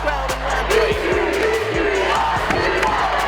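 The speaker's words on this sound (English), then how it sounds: "Another huge crowd in Lapwai." A large, loud crowd fills a gym at a Lapwai girls basketball game, a dense roar of cheering and yelling with shouts and whoops, continuous throughout.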